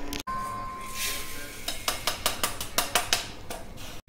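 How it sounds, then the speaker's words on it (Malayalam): Biryani rice slowly dry-roasted in a pan for thampittu, a quick run of scraping and clattering strokes from a spoon stirring the grains against the metal, close and rhythmic over a soft background hiss. "ഇനി ഇതൊക്കെ നമുക്കൊന്ന് പതുക്കെ വറുത്തെടുക്കണം."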